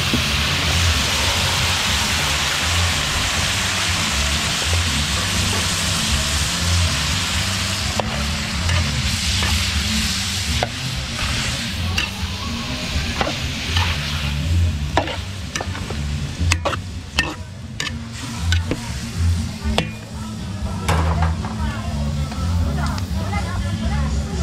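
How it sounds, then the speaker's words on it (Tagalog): Beef and broccoli sautéing in a pan for a catered meal, a steady loud sizzle with scraping stir strokes and clanks throughout, while a voice talks over it. "beef broccoli, gigisa na natin"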